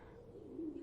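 Two pigeons cooing in an animated cartoon, a soft, low, rounded coo swelling briefly and faintly in a short burst.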